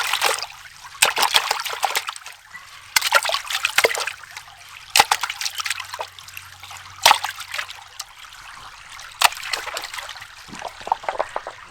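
Water splashing and trickling over black sands in a gold pan while panning glacial gold, in repeated bursts of sloshing and dribbling, fairly close, with no talking.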